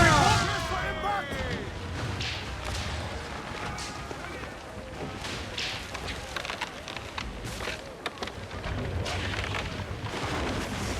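Ship cannons booming in an Assassin's Creed IV: Black Flag naval battle, repeated heavy blasts over ocean wash and crew shouting, with voices talking throughout.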